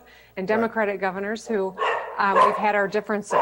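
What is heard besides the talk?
dog barking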